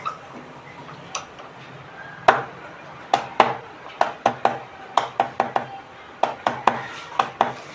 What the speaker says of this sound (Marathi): थोडंसं असं लसूण जो आहे तो असं रगडून घेते